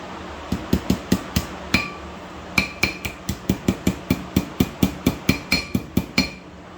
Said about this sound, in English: Here's our hammer.